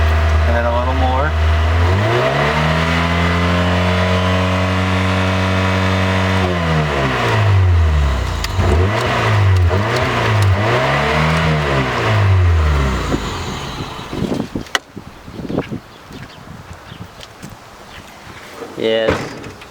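Honda Prelude engine with a stuck throttle, revving up and hanging at high idle, rising and falling sweeps close by and loud, then a clunk and rattling mechanical noises at the end, with people talking.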